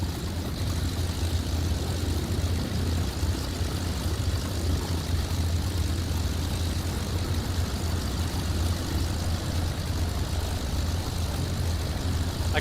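Twin propeller engines of an ATR 72-600 at full throttle in Microsoft Flight Simulator 2024 give a steady, unbroken low drone with a constant mid-range hum, heard alone at an even level.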